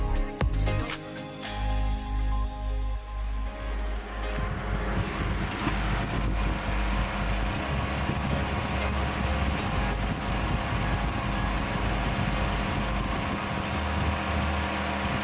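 A 2001 Nissan Exalta engine idles steadily with the radiator fan running, a low continuous hum and whir heard close up under heavy wind buffeting on the microphone.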